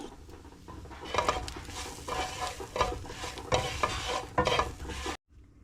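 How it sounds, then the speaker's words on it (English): Food toasts in a pan with tomato sauce, sizzling and frying under stirring scrapes, close and moderately loud, ending abruptly. "All right, so we toast that up a little bit."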